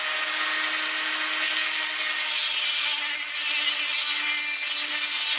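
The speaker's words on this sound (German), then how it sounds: "Geht auch ein normaler Dremel und da habe ich so einen kleinen metallenen Diamantschleifer dort." A Dremel rotary tool fitted with a small metal diamond grinding bit, used with safety goggles to enlarge a hole in a Nazar boncuk evil-eye bead, gives a steady, continuous high-pitched whine and grinding hiss, close and loud, with no talking.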